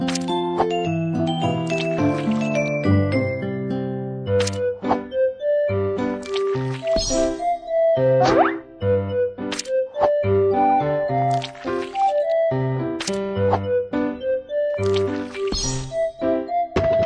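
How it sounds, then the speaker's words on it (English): Cartoonish squishing as pureed food is squeezed into a pastry bag in the Baby Panda Care game, repeated soft squelches over bright, plinking game music. "Pour the pureed food into the pastry bag."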